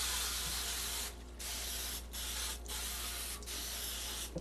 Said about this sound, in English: I'm going to spray it with nonstick spray.